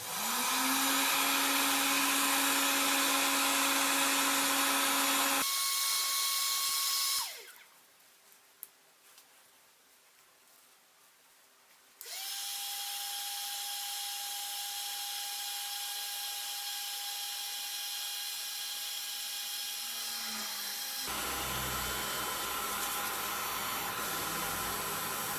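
A handheld heat tool warming an old fuel injector's Pinto cap, a loud steady whirring blower with a constant tone that cuts out for a few seconds and then resumes, no talking.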